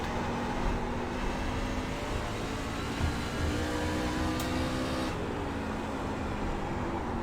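A race truck in iRacing at Nashville Fairgrounds holds a steady, loud engine drone that rises and dips slightly in pitch as the throttle is fed, with no speech.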